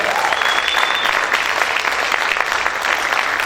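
A church congregation applauds in steady, dense clapping that fills the room for a few seconds at an even loudness, with a faint murmur of voices underneath.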